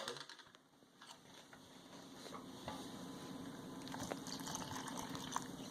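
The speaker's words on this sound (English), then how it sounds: "I'm going to go ahead and just pour in my 3/4 cup of water" Three-quarters of a cup of water pours into a bowl of pancake mix with a soft trickling splash, accompanied by faint clinks and taps from nearby handling.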